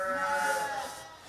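Sheep bleat at summer shearing time, a few drawn-out, wavering calls close by that fade slightly toward the end, with faint background noise.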